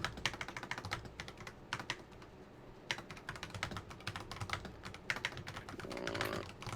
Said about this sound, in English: you smash your mechanical keyboard